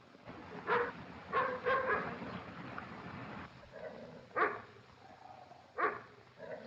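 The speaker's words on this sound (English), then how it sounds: "Is that your dog? Yes, why? What's he barking for?" A dog barks to be let in, with several short, separate barks spaced a second or more apart over a low rumbling background.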